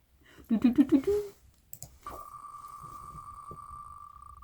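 A prize spin wheel whirs with rapid, steady clicking under a faint hum and keeps going for a couple of seconds, just after a brief burst of nearby talking.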